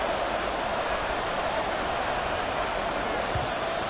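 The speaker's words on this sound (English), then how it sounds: "this crowd making it hard to hear" A loud, steady roar of a stadium crowd at a Madden NFL football game, Packers at 3rd and 8 late in the game, a dense wash of noise sustained throughout.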